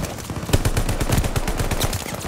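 A BAR assault rifle fires in Call of Duty Vanguard, a rapid, loud stream of automatic shots in quick succession, close and punchy, running throughout without talk.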